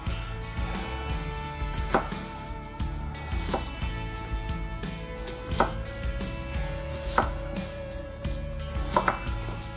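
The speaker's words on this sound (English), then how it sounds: "I'm also going to cut some onions and some shallots. I'm just going to cut this into slices." A knife slices onions on a cutting board while preparing an old rum and pineapple pork roast, giving close, sharp chopping knocks at a slow irregular pace over a steady kitchen background hum.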